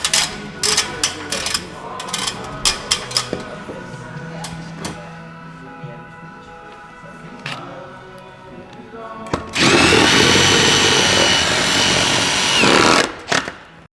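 Power drill driving screws into climbing holds: a close, loud whirring burst of several seconds that cuts off sharply, after softer clicks and handling clatter.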